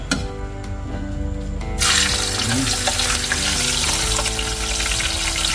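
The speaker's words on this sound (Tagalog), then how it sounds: "Magprito na po tayo. Mainit na yung ating mantika." Milkfish (bangus) dropped into hot oil in a pan already holding tomato, onion and ginger, erupting into a loud, steady crackling sizzle that continues alone after a quieter start.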